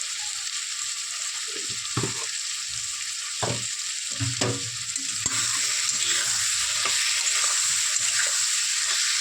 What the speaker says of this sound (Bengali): মশলাটা ভালো করে নেড়ে চেড়ে নিলাম